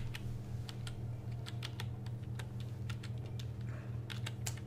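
A computer keyboard is typed on during play of Mission Impossible for the Nintendo 64, with sharp, irregular key clicks coming close and steady over a constant low hum, and no talking.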